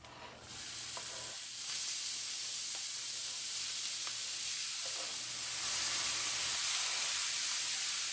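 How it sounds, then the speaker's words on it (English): Water hisses and sizzles steadily in a hot pan holding chopped onion, shallot and garlic, a continuous close frying sound that swells slightly toward the end, with a few faint stirring knocks. "Threw some water into the pan."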